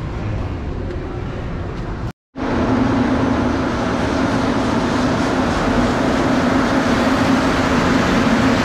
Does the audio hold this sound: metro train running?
yes